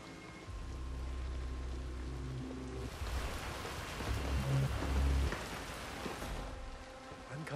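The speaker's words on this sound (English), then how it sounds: "I'm never going out in the rain again." Rain falling in the video game Hitman 3, a soft, steady patter of drops with low game ambience underneath, swelling slightly midway, with no talk.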